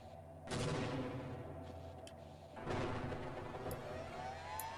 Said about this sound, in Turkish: Bir suratına bomba atayım mı?